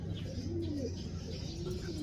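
Pet bird cooing softly and steadily, a low repeated dove-like coo close by with faint chirps, in a quiet room while it recovers after travel.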